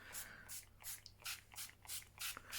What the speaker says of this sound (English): I'm going to spray it again with some more water.